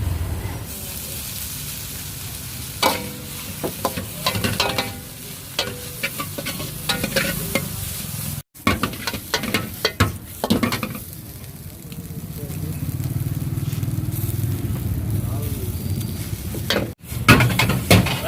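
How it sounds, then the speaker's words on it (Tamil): Fried prawns stirred with sautéed vegetables for road-side-style prawn noodles, a loud steady sizzle under repeated scraping and clattering stirs in the pan, close by. "இது கூட நம்ம பொரிச்சு வச்சுருக்க ப்ரானை சேர்த்துக்க போகிறோம்"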